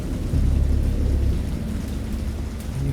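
Stormy weather in the horror game Dagon: steady heavy rain hiss with deep rolling thunder rumbling low and loud through the whole stretch, no voices.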